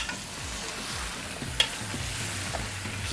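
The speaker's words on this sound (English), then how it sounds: "You hear that sizzle? That's what we want." Steady crackling sizzle of meat frying in hot oil for Guyanese pepperpot, close and continuous, with a brief clink of a utensil midway.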